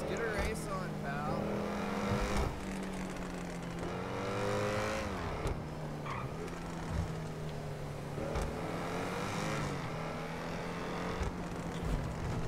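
A Ferrari F8 Tributo engine revs and roars in a video game, rising and falling in pitch with tire noise, while someone talks over it.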